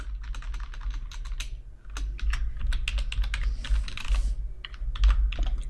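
Typing on a computer keyboard while entering code: rapid, close, uneven key clicks in bursts, with brief pauses between runs.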